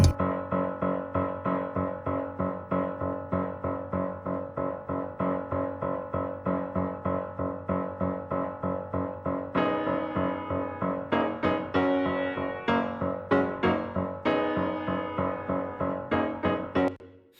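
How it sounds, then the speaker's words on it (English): A Steinway & Sons grand piano at the Anchorage Museum plays a steady run of repeated notes. The texture grows brighter and denser partway through as higher notes join. It sounds close and full, with no voices. "that's actually a super expensive Steinway & Sons piano from the Anchorage Museum"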